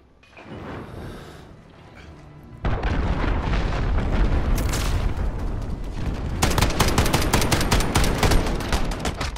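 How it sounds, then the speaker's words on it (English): Heavy cruise missile strike in a first-person shooter match on Arklov Peak, a low rumble building into a dense, continuous barrage of loud booming explosions and crackling blasts that keeps rolling for several seconds. "Allied cruise missile away."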